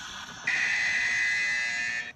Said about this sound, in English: Both teams have a buzzer.